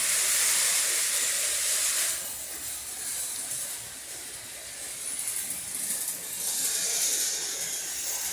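Steady, loud hiss of steam from a live steam locomotive on a heritage railway, broadband and continuous with slight swells and dips in intensity, no voices.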